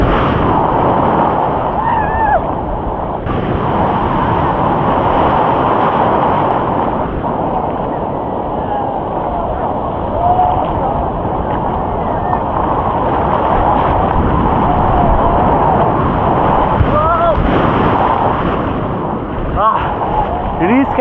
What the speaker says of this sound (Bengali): আজকে যখন ব্লগিং করছি সাংঘাতিক ঢেউ দিচ্ছে